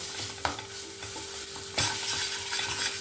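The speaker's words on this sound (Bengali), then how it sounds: "সেটা এখানে দিয়ে দেব দিয়ে পেঁয়াজের সঙ্গে ভালো করে মিক্স করে নেব" Stirring fried onion into a mashed flat bean bharta in a pan: soft scraping and light sizzling with a couple of sharper scrapes of the spoon, quiet and close, with no voices.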